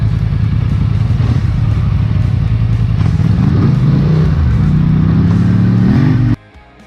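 A Polaris Sportsman 850 or Scrambler 1000 ATV engine churns loudly through deep, thick mud, droning steadily and then rising in pitch as it strains, before cutting off abruptly near the end.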